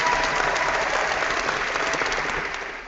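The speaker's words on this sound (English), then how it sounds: "Once again, the crowd goes wild." A crowd applauds loudly and steadily at a healthy family recipe cooking event, dense clapping that fills the moment and tapers slightly at the end, with no talking over it.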